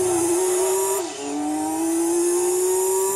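Race car in Gran Turismo 2 holds a loud, steady engine note, then dips sharply around a downshift before climbing again under acceleration, close and alone without talk.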